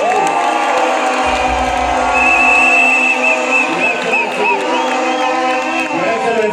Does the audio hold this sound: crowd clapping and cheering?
yes